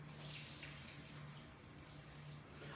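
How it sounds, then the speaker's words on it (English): Water poured from a tap into a pot of escarole and bean soup, a steady close splashing stream running throughout with no talk over it. "I'm going to throw in a little bit of water."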